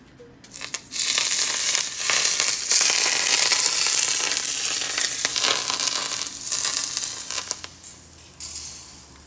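Hot oil poured over Chinese-style barracuda topped with green onions and cilantro, a loud sustained crackling sizzle that erupts sharply, holds for several seconds, then gradually softens.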